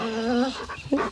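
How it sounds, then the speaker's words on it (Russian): A dog whimpers and whines in a village farmstead setting, a drawn-out high-pitched whine followed by a short second whimper, close and clear. "Аж скулит."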